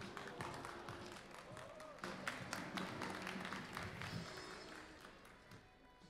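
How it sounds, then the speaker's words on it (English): Scattered audience clapping for a competitor at a French barista championship qualifier, sharp claps rising and thinning out beneath a talking announcer and room chatter. "On peut bien l'applaudir encore à nouveau."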